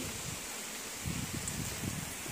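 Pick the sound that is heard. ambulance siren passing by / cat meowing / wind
wind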